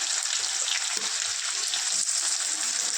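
Onions and curry leaves frying in hot oil with popped mustard seeds for upma, a loud continuous hissing sizzle close up, with faint stirring.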